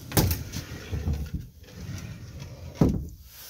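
The interior door of a Coleman Lantern 314BH travel trailer is unsnapped and slid along its track, giving close rattling scrapes and two sharp clacks, with no talk.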